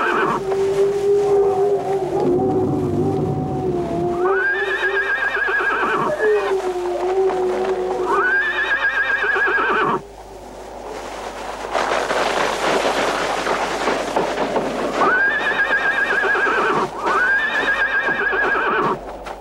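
A horse on a mountain summit whinnies in several loud, drawn-out neighs, with hoof clip-clops and rustling noise between calls and a steady low hum beneath.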